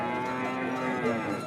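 A native cow moos at a busy cattle market, one sustained low bellow heard close over a steady background murmur.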